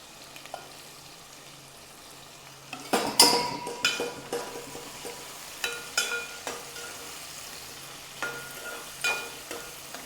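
Chopped onions and green chillies land in hot oil with chana dal, bursting into a sudden sizzle that keeps crackling, punctuated by scattered clinks and scrapes of a spoon stirring the pan.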